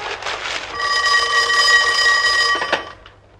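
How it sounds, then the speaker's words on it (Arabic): A telephone rings with a steady electronic trill of stacked bright tones, sustained for about two seconds at close range before cutting off, in a room scene from an Egyptian film. "تليفون ليك يا حسن بيه."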